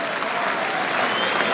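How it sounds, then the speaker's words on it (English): Whistles and applause from the Headingley cricket crowd as England's openers walk off undefeated at the close of play in the third Test against Australia, a brief, steady wash of distant clapping. "it's to whistles and applause that England's openers walk off undefeated"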